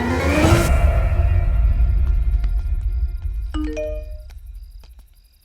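A doorbell chimes in a Hindi-dubbed action film scene, a bright ding-dong tone ringing out clearly after a loud whooshing rumble fades, followed by lingering chime echoes.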